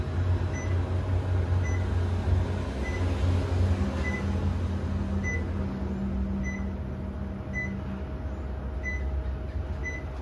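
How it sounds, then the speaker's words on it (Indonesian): A Panasonic Standard 1 PK CS-YN9TKJ air conditioner runs with a steady, loud, broadband whooshing hum, with faint high beeps recurring at intervals throughout. "AC Panasonic itu bagus guys, suaranya tuh menggemaskan."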